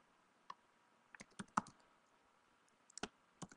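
Scattered keystrokes on a computer keyboard while a Google Docs document is being written, sparse and fairly quiet with pauses between short bursts of taps.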